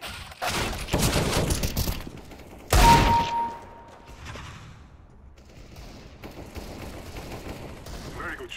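Bursts of gunfire from a Counter-Strike: GO match at the ELEAGUE Boston 2018 Major, loud rapid volleys in the first seconds, then a sharp blast and quieter scattered shots with background noise.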